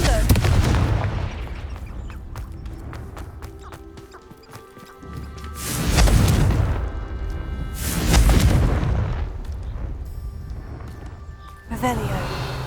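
A Confringo spell in Hogwarts Legacy on PS5 erupts in a few loud, booming fiery blasts, each swelling and fading, with a sharper crack near the end amid game sounds.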